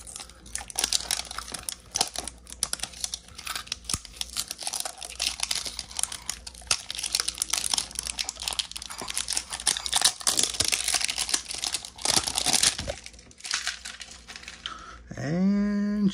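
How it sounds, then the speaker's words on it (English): Plastic wrapping on a Pokémon card Poké Ball box crinkles and tears close up in continuous busy rustling, with a brief squeaky rising tone right at the end. "we'll go ahead and open this up and then start unpacking,"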